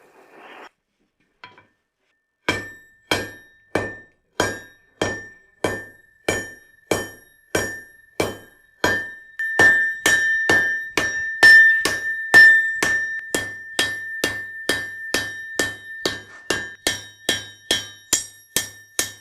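Hammer blows forging a 300-year-old crowbar into a knife, a long run of evenly spaced ringing metallic strikes, close and loud, quickening into a dense flurry midway before settling back to a steady beat.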